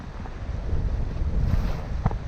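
Wind rushes past a sailboat plowing through flat water at about seven knots, a steady broadband whoosh of breeze and hull wash with a faint splash near the end.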